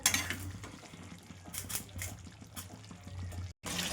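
Potatoes being stir-fried in a pan during home cooking, soft scraping of a utensil against the pan and a low sizzle, quiet and close with no one talking.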